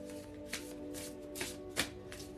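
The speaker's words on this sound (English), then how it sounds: "I was just fixing to shuffle it like my tarot" Tarot cards shuffled by hand at close range, a few distinct riffling bursts over a steady low hum, with no speech.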